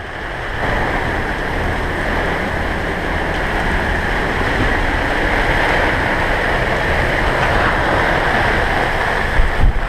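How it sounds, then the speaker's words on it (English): Strong wind blows at sea around a boat that has lost its rudder off Mexico, a loud, steady roar that buffets the microphone for the whole stretch, with a rush like surf underneath and no talking. "Oh, look at the wind go."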